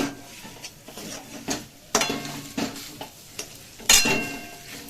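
Fried spice mix is stirred in a pan with a spatula, making repeated scraping and clinking strokes at an uneven pace, close and fairly loud, with no talking.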